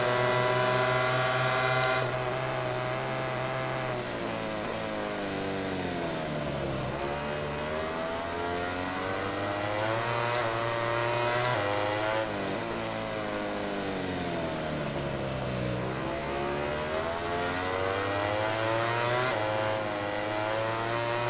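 A Ducati motorcycle engine races in MotoGP 2019, droning loud and close throughout, with pitch rising and falling repeatedly as it accelerates through gears and backs off for corners.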